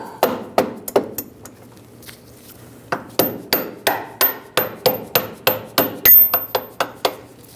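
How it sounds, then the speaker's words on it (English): A rubber mallet taps a front lower control arm into place on a 2013-2016 Dodge Dart, giving a series of sharp, fairly loud knocks, a few spaced at first and then a quick steady run of about a dozen blows. "Tap it in place just with a rubber mallet"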